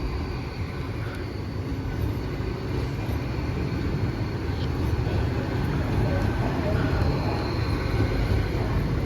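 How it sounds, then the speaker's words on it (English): An Avanti West Coast passenger train, unit 805013, runs from Holyhead toward London Euston with a steady, broad rumble. The rumble is loud and continuous and swells slightly toward the end, with no voices over it. "There's the 1332 Avanti West Coast service to London Euston from Holyhead"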